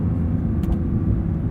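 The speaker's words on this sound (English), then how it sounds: "And just listen to that flat six." A deep, steady Porsche 911 GT3 flat-six engine rumble drones close by, with a brief faint higher swell in the middle.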